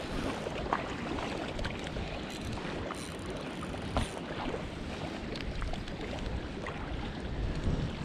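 Steady, strong wind buffeting at a lake during pike fishing, a continuous broadband roar with occasional gusts and faint knocks, no talk.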